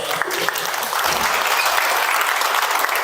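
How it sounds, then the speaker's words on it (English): A crowd breaks into steady, full applause for people who shared their stories at a support gathering, a dense wash of clapping throughout. "a round of applause for those who shared,"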